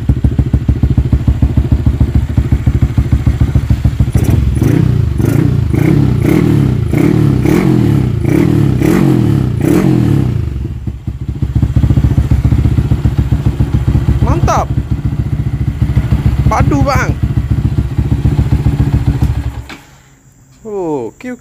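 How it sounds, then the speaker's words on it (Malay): Motorcycle engine fitted with an Omar Racing exhaust, running loud and close with rapid revving bursts early on, then settling into a steady idle with clattering, while someone speaks briefly over it. "Sedap kan bunyi exhaust ni. Exhaust semua ni Omar Racing."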